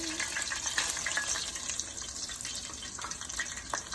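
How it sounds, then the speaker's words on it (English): Breaded chicken milanesa sizzles in a frying pan, a continuous crackling hiss with scattered pops, fairly faint and steady throughout, with no talk over it. "it's supposed to be sizzling that loud"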